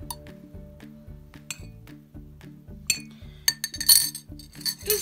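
A teaspoon stirs baking soda mixed one to one with water in a glass, giving repeated close clinks against the glass over a faint steady hum, busier toward the end.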